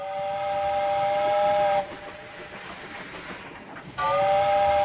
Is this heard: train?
yes